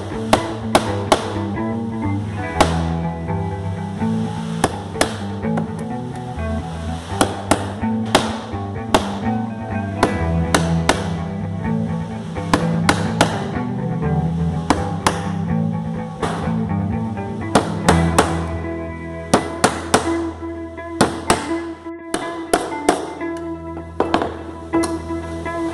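A 19x36 nail is hammered repeatedly to punch holes in a homemade corn grater, sharp close metallic taps in an uneven, steady rhythm with a background of musical tones throughout.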